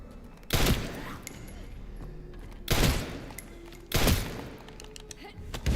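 Gunshots in the video game Resident Evil Requiem, three loud separate blasts spaced a second or two apart, each a sharp burst with a short tail over a low background rumble.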